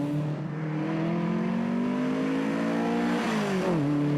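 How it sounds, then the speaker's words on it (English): An Opel Manta classic rally car at the GTC Rally accelerates hard, its engine note climbing steadily through the revs, dropping briefly at a gear change and then pulling up again, loud and close throughout. "Opel Manta as well, one of the rally classics"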